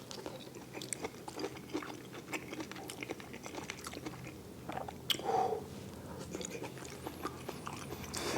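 Close, moist chewing and biting of cooked meat, with soft crunchy bites repeating irregularly over a quiet room background and one slightly louder bite partway through.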